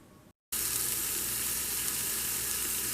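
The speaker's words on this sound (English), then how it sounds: "The sizzle of my breakfast. I'm just heating up 3 sausages right now" Three sausages sizzle steadily and loudly in a hot pan after a brief moment of silence, a constant crackling hiss.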